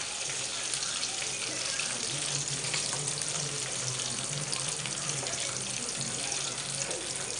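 Bitter gourd (kakarakaya) frying in a pan for a spicy kakarakaya karam dish: a steady, even sizzling hiss that holds close and unbroken throughout.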